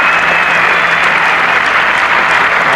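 Dense, steady applause and cheering from a large cricket crowd at Headingley in the 1981 Ashes Test as a batsman walks out. The sound is loud and continuous throughout, with no talking.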